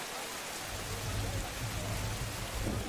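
Steady rain falls on empty streets as a soft, even hiss with a low rumble underneath, and nobody speaks.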